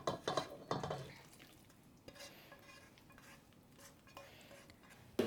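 Chopped vegetables and canned tomato with salt and herbs for ratatouille are tipped into a T-fal electric pressure cooker, with a few close clattering knocks first, then soft scraping and faint clinks in a quiet kitchen.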